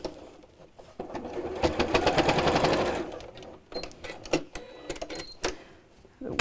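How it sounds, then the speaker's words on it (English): A sewing machine runs a straight stitch across a bag's seam allowance in a fast, steady chatter lasting about two seconds. Shorter bursts of stitching and handling noises follow, with brief pauses between them. "we'll sew straight across within the seam allowance again, just to hold those in place"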